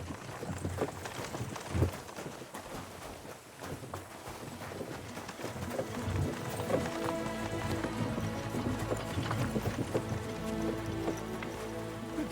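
Horse hooves clip-clopping at a gallop in the video game Kingdom Come: Deliverance II, a steady rhythmic beat over a busy bed of music and ambient outdoor sound, with no talk.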